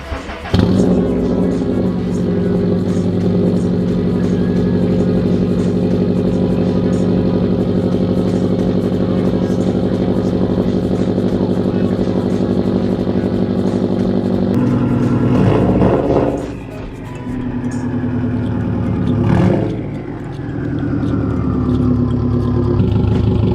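A car engine revs hard and loud through a Cobb downpipe with no cats, resonators or mufflers, a raspy sustained drone with several sharp throttle blips and drops near the end, heard close up.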